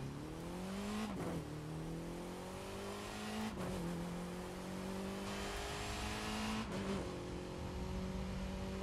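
Alfa Romeo 4C engine in the racing game The Crew 2, revving up through the gears with three sharp shift drops and a steady, loud rising whine, no talking over it.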